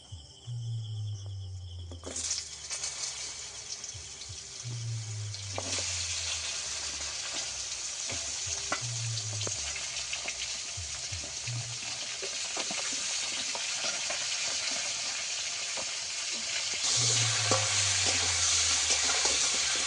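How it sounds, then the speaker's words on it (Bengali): Sliced pointed gourd frying in hot oil left over from frying fish: a constant close sizzle with a spatula stirring and scraping the pan every few seconds and a low hum underneath. No one speaks. "কেটে রাখা পটলটাকে ভেজে নেব।"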